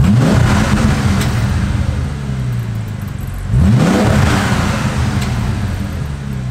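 Bentley Continental GT with a W12 engine and standard exhaust revving in a workshop, a loud, deep engine roar with two rising throttle blips, the second swelling sharply before settling back into a steady rumble.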